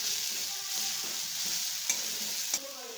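Potato vada filling with chili thecha and curry leaves is sautéed in a pan, giving a soft continuous sizzle and two sharp scrape clicks from the spoon, close and quiet, with no talking.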